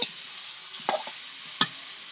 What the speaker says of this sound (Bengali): ভালো করে নাড়িয়ে চাড়িয়ে দেব নাড়িয়ে দিয়ে আবার একটু কষাতে দেব